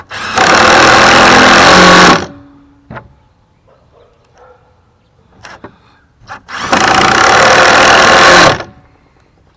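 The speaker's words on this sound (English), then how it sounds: "I'm going to put 2 screws in each side." A cordless drill drives screws into the wooden frame of a raised planter box in two loud, close bursts of about two seconds each, separated by quiet handling clicks and knocks.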